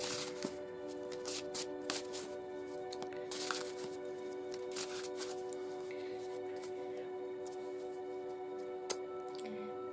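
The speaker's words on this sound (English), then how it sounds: "Give a last minute shuffle and we'll choose our first card" Close, quiet shuffling of a Tarot Grand Luxe card deck, a series of soft riffling and sliding card bursts with a sharp snap near the end over a faint steady hum.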